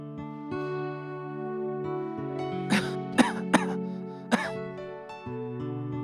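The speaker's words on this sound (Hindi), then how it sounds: "क्या बात है बेटा, इतना खांस रहे हो?" A man coughs several times in short, sharp bursts over a sustained background music score, the coughs clear and close.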